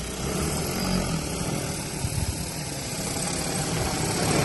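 Steady broadband whirring drone of a large agricultural seeding drone's rotors, loud and close, continuous throughout with a low rumbling undertone and no talking.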